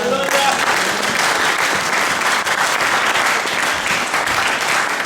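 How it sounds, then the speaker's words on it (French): An evangelical church congregation in France applauding and cheering for the Lord, dense sustained clapping from a large crowd with a voice over it. "Est-ce que tu peux acclamer le Seigneur?"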